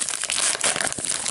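Loud, close crinkling and tearing of a foil baseball card pack wrapper being ripped open, with dense crackling bursts throughout and no talking.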